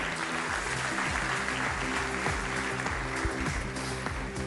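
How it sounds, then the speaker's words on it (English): Audience at the Globe Soccer Awards ceremony applauds for a coach, sustained dense clapping over a steady bed of background music, even in level from start to finish. "let's give him a big round of applause"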